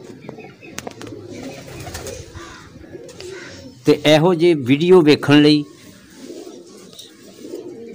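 Sialkoti pigeons coo in a loud, close burst of rolling, throaty calls lasting about two seconds, with someone speaking before and after.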